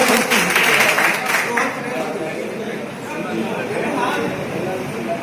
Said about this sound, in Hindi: ताली भी बजाते रहिए आप लोग भाई